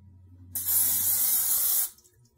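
Nonstick cooking spray hisses into an air fryer basket in one continuous burst of a little over a second, loud and close, with a low hum underneath before and after.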